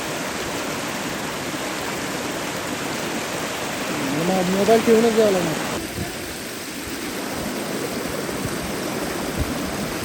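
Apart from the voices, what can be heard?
strong water stream flowing at waterfall in Pale village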